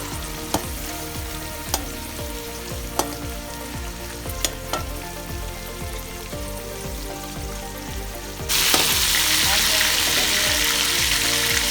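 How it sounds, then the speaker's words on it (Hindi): Onions frying in a pan for chicken yakhni pulao, a dense continuous sizzle with scattered crackles and spatter pops, growing louder and brighter near the end, heard close with no talking. "अब इसको मैं प्याज फ्राई कराँगी।"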